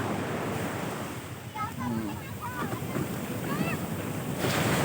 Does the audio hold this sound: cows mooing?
no